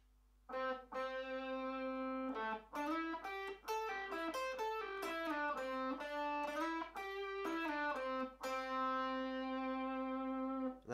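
Electric guitar plays the second phrase of the solo, a single-note melodic line with slides between notes, sustained and effected, played alone and clearly up close.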